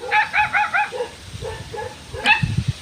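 A dog barks in a quick series of sharp yelps near the listener, then gives a few softer whimpering barks, with low rustling and movement underneath.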